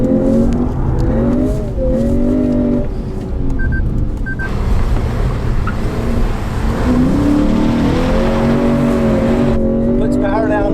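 A 2020 Lexus GS F's engine revs up through rising tones, cutting off briefly between gear changes, then pulls hard again, loud inside the cabin with short chimes and someone talking over it.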